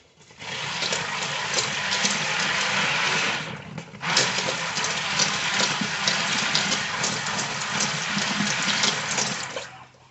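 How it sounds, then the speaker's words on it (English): Charcoal gray soap batter mixed as soap cupcakes are made: a loud, steady whirring mixing noise runs almost throughout, with a short pause near the middle before it starts again. "So I'm gonna go ahead and just kind of mix this up just a little bit."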